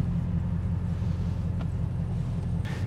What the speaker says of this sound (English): this is actually our first drive in the Bugatti Chiron together